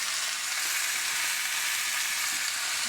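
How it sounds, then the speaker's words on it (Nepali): Vegetables being stir-fried in a pan in a village home in Nepal hiss with a constant, even sizzle, close and moderately loud, with no voices. "हामी सब्जी भुट्दैछु"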